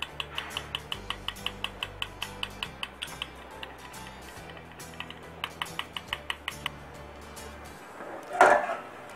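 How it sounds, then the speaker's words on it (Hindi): A spoon whisks yogurt (dahi) in a bowl, producing a steady run of quick, light clicks and taps close by, ending in a louder scraping clatter. "स्पून से हम दही को फेंट लेंगे।"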